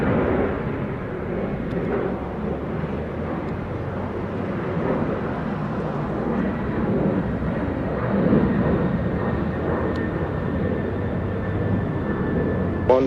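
Airliner landing at Montego Bay airport in Jamaica, a steady broad roar of engines and rushing air that holds fairly loud throughout, with a faint high whine running underneath.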